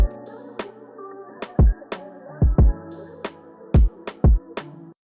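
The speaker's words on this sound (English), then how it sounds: "so I chucked in an open hat, super simple," An open hi-hat repeating on a two-bar pattern rings in sizzling bursts within a soul beat, over a sustained chord bed and heavy, booming kick hits, loud and upfront with no voice.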